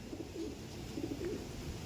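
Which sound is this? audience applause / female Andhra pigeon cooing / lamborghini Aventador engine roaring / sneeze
female Andhra pigeon cooing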